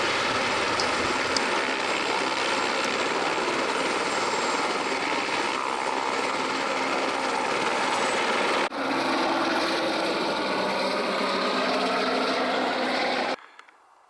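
A helicopter flies over the mountains near Gavarnie in the Pyrenees, a steady, loud broadband rotor and engine roar that holds for about thirteen seconds, shifts character partway through, then cuts off abruptly.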